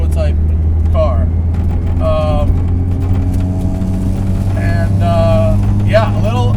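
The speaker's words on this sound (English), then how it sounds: "The sounds this car makes from the outside are crazy." A supercharged 385 whp Honda S2000 track car, built for racing, runs with a loud, steady low engine drone that holds throughout while people talk over it.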